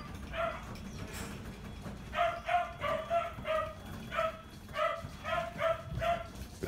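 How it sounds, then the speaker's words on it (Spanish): A frightened dog barks repeatedly in short, high, yelping bursts, steady and rhythmic, fairly close with a faint background hum. "Perro asustado, claro."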